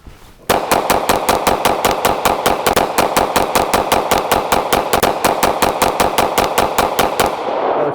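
A semi-automatic concealed carry pistol fires a rapid, even string of about twelve or more loud, sharp shots at close range, each crack followed quickly by the next, with silence before and after.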